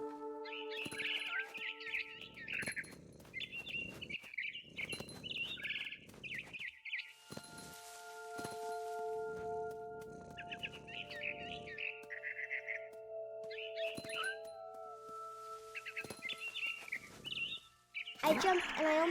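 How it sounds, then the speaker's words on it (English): Repeated high chirps and tweets of a barn swallow in the video game What Remains of Edith Finch, in short bursts, interleaved with low electronic tones and music-like hums, with a loud burst near the end. "Then I heard chirping outside my window. It was a barn swallow going back to her nest."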